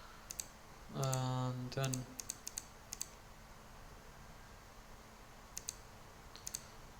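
Fingers type on a computer keyboard, a faint burst of close, crisp key clicks scattered across the clip, with a brief spoken phrase partway through.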